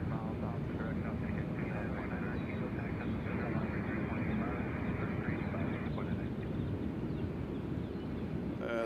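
Avelo airliner arriving from Wilmington, a steady loud broadband jet roar sustained throughout with constant wind-like rush and no break.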